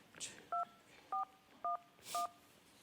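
Telephone keypad dialing tones: four short, clear dual-tone beeps in an even rhythm, with a faint click or two between, in a quiet outdoor setting in the cold.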